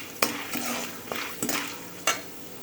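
Cashews frying in a pan for lemon rice, a soft ongoing sizzle with a few sharp spoon scrapes and taps against the pan, quiet and close.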